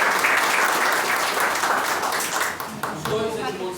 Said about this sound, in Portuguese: Vamos aplaudir esses dois irmãos?